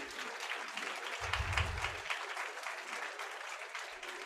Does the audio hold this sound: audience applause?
yes